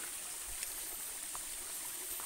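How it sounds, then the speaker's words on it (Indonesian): A small waterfall spills into a pond with a faint, steady hiss of falling water and occasional soft splashes, quiet and continuous with no voices. "kolam, seperti kolam dengan sedikit air terjun di sini"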